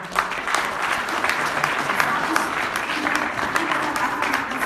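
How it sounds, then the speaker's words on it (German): A convention audience in Germany applauds a speaker being called onto the stage, with dense, steady clapping close by throughout and voices murmuring underneath. "Einen Applaus bitte"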